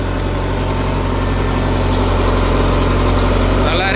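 Sonalika Tiger 75 CRDI tractor engine running in power mode, a steady loud diesel drone with a low throbbing hum that holds even throughout, with no talk over it.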